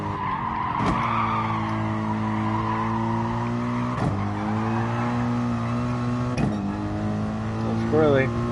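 Car drifting around a bend in a PS4 online daily race, engine droning steadily with harmonic tones while tires squeal and skid through the slide, with sharp transient bumps along the way.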